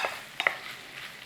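Smoky bacon cubes render in a pan with a soft, steady sizzle and a few brief utensil clicks, fairly close and moderately quiet.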